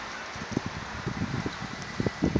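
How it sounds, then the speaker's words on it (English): Raindrops fall at the start of a severe thunderstorm in Yakima, with scattered soft taps and patters in an uneven rhythm over a faint steady wind hiss. "Raindrops are falling,"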